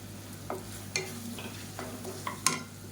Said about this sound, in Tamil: இப்போ இது எல்லாத்தையும் ஒரு ரெண்டு நிமிஷம் வதக்கிட்டு